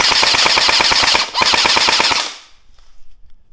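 A Bohan SLR AR15 gel ball blaster fires in rapid full-auto bursts, two quick strings of sharp, loud snapping shots with a brief break between, then the noise stops into near silence.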